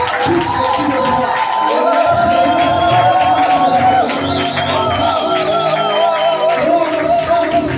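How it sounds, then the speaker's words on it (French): A church congregation at a Sunday service shouts and cheers for joy, a loud, continuous wall of whoops, yells and voices sustained throughout with no pause. "Pousse les cris de joie."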